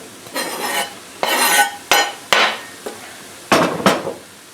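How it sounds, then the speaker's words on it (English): A small onion and other vegetables go into a pot to sweat down: a series of close, fairly loud scrapes and clanks from a utensil stirring against the pot, with a faint sizzle underneath and no one talking. "I'm going to bring it over and throw it in here and sweat these vegetables down."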